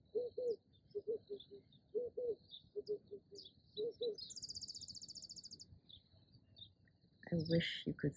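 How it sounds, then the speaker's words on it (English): A mourning dove coos in repeated low, soft phrases, with brief pauses between groups, while other birds chirp and trill higher and fainter in the open air. "the morning dove."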